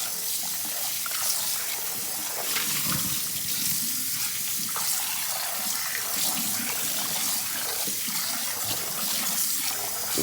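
Water from a tap splashes continuously into a burnt pot being rinsed out after scrubbing with ramen noodles, a steady close hiss and gurgle with uneven sloshes, no voices.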